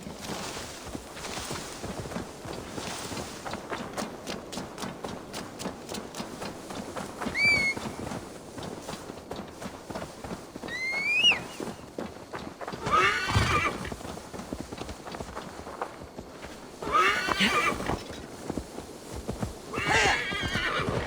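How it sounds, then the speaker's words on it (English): In Assassin's Creed Valhalla, a horse neighs a few times over a run of clopping hooves, the whinnies standing out loud and close against the steady footfalls. "Now to deliver Magni his horse"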